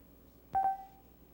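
A cellular phone built into a portable computer dials out with a quick pair of clear tone beeps, followed by a steady ringing tone that fades, in a quiet room.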